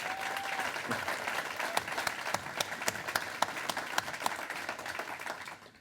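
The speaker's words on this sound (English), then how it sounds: "let's give Sam a round of applause" Audience applause at a city's State of the City mayoral address fills the room steadily for several seconds with dense, continuous clapping and scattered sharper claps, then fades out at the end.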